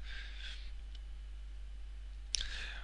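A single sharp computer mouse click lands near the end of a short, quiet stretch with faint background hiss, while building a mini website in Dreamweaver MX.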